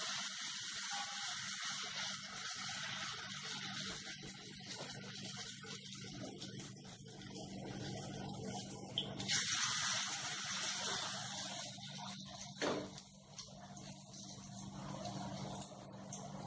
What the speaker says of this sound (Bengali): এইভাবে আমি আস্তে আস্তে এটা ভেজে নেব